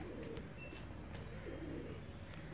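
Sialkoti pearl-marked pigeons coo softly nearby, a few low rolling coos repeating over a faint background hum, with occasional light chirps.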